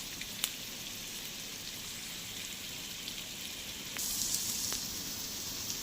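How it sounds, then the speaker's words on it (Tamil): Onions fry in a pan for a Chennai-style mutton head curry, giving a steady, soft sizzle with a faint hiss throughout and a few small pops, with no talking. "வெங்காயம் நல்லா செவந்து வரட்டும்."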